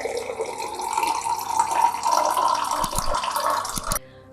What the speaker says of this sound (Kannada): ಇದಕ್ಕೆ ಇವಾಗ ಫುಲ್ 1 ಲೋಟ ಆಗುವಷ್ಟು ನೀರನ್ನ ಹಾಕೊಳ್ತಾ ಇದ್ದೀನಿ.